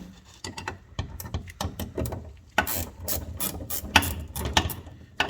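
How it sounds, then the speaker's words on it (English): A ratchet wrench clicks steadily while turning a fastener on a Ford Mustang project car, the rapid pawl ticks coming in close, dense bursts with brief pauses, no talking. "if you don't have a set of ratchet wrenches, just go out and buy some"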